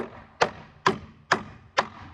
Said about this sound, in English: Come back with your hand hammer.